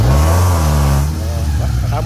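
A Mitsubishi Lancer engine revs hard while climbing an uphill road, a loud steady low drone that eases slightly after a second; someone talks over it.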